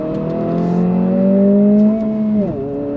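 A 2023 Honda Civic Si engine drones steadily under throttle, its pitch holding and then dropping sharply as the brakes come on, loud and close with a faint tire whir.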